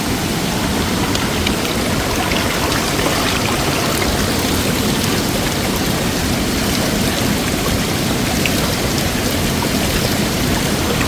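Spring water at Maranum Falls flows and splashes as a dense, steady rush close by, with no talk over it.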